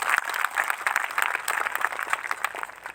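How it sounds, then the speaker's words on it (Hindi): A church congregation claps together in praise, a dense, steady burst of applause from many hands filling the room, with no talking over it. "एक जोरदार ताली प्रभु यीशु के लिए।"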